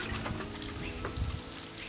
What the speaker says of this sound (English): And I'll also give that a good soak of water.